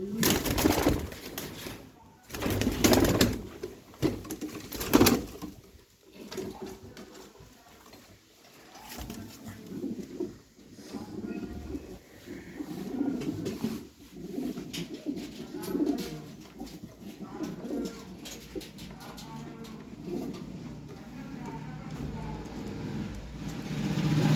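Pigeons kept by a fancier coo softly and repeatedly nearby, with rustling, handling noises and a few louder knocks in the opening seconds.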